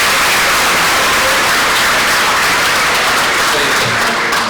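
A crowd at a school assembly gives loud, steady applause for the homecoming king and queen, with dense clapping throughout and no break.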